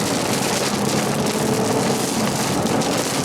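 Steady rain roars around a car driving through the hook of a tornadic storm on a Kansas road, a dense, continuous hiss of drops pounding the surface with no voices.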